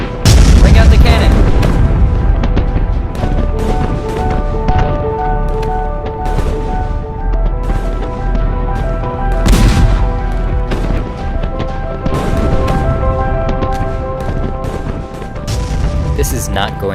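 Cannon fire in a staged historical scene of Cary's Rebellion, with heavy booms and crashing blasts over a dense, loud backdrop of music and voices, strongest near the start and again around the middle.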